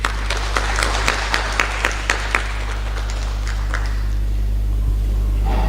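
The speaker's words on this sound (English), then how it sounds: "Can we clap hands for them?" Hands clapping at a health event in Malawi, a spaced series of sharp claps over a steady low hum that thins out and fades within a few seconds.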